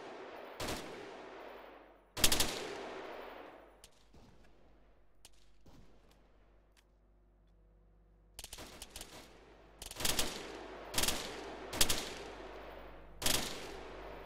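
Machine gun fire in an Arma 3 battle, heard as sharp loud bursts and single shots that ring out with long echoing tails, pausing mid-clip before a rapid run of repeated bursts.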